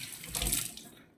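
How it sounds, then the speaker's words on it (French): A short burst of running tap water splashing over eggs being washed in a kitchen, rising and then fading out within about a second. "Je lave les œufs."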